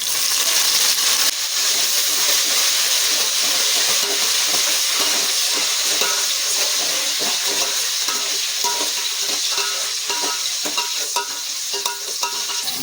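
Onions, curry leaves, mint and coriander fry in oil with seasoning seeds for a Telugu fish curry, giving a loud, constant close sizzle overlaid with frequent scraping stirs of a spoon, and no voices.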